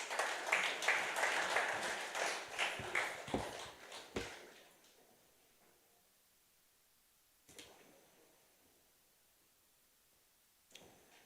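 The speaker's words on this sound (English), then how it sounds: "Give her a round of applause, please." Audience at a farmers' appreciation and awards ceremony clapping, a moderate round of applause for about four seconds that fades to near silence, with a couple of faint later bumps.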